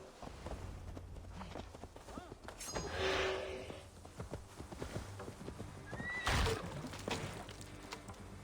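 Hooves clip-clop at a walk while a horse whinnies now and then in Assassin's Creed Valhalla, fairly quiet, with faint talk in the background.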